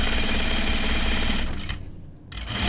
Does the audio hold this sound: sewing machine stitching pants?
yes